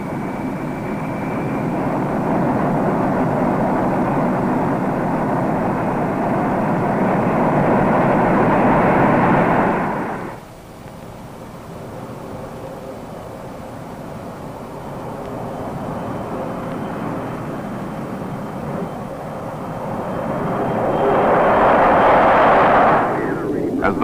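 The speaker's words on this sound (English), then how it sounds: "As the bomber climbs out" A B-52 bomber carrying the X-15 rolls for takeoff and climbs out. A loud, sustained jet roar dips sharply partway through, then swells again as the climb continues.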